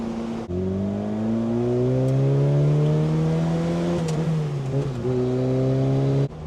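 A kei truck drives along a road, its small engine droning steadily with pitch rising and falling as it shifts and accelerates; the note dips briefly near the end, with no talking.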